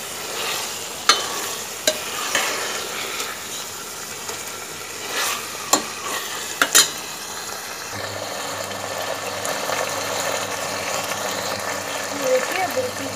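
Mutton keema with whole spices and a slit green chilli stir-frying in a pan, a steady close sizzle with scraping spatula strokes and a few sharp clinks, growing a little busier toward the end.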